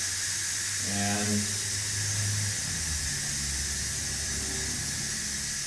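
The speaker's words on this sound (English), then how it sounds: "Let the steam come out" Steam hisses steadily from a cooking pot of potatoes, a continuous broad hiss with a brief squealing tone early on, while a voice speaks briefly.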